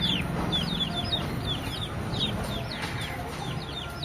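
Rasangi and Patteda breed chickens and chicks at a farm, with many birds clucking and peeping in overlapping chirps against a steady background murmur.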